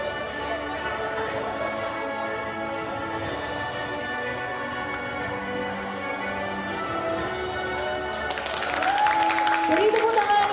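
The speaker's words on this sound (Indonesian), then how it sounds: "Beri tepuk tangan yang meriah untuk wisudawan terbaik kita." A graduation ceremony audience claps for the best graduate of a communication sciences faculty, sustained applause filling a hall under music and a voice, swelling louder near the end as more hands join in.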